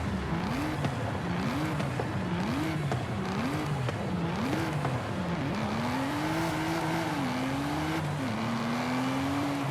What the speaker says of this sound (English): I mean, the trouble is the DBS sounds so much nicer.